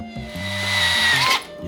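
A power drill whirs steadily close by, its motor pitch rising and shifting as it bites, then cutting off abruptly near the end.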